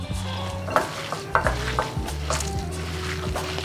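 Ground beef being mixed by hand for burger patties with garlic paste and other seasonings, making a close, wet, squelching churn with soft regular slaps against the bowl and no talking.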